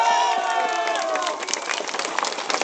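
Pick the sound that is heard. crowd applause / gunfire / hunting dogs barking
crowd applause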